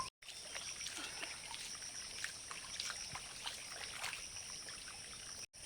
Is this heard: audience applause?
no